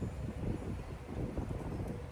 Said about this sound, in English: it is incredibly windy and has been blowing like sometimes 30 plus miles an hour